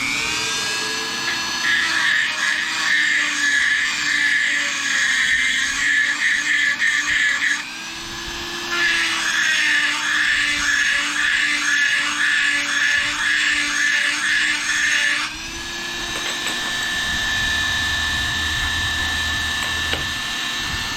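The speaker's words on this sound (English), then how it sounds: "So I've got a metal burr in my Dremel tool. I'm just going to open up the hole just a little bit" A Dremel rotary tool fitted with a metal burr opens up a hole during a transom mount rebuild. It gives a loud, steady high whine that grinds for several seconds, drops briefly, resumes, then settles into a smoother spin-down hum.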